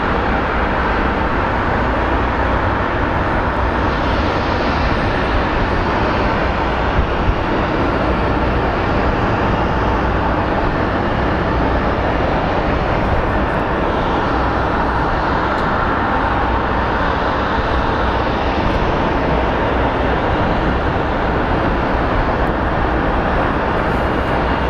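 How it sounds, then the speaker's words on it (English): An airplane passes at Phoenix Sky Harbor International Airport, producing a loud, continuous broadband jet roar that stays steady and dense for the whole stretch with no talking. "let's catch this plane and we'll call it a show"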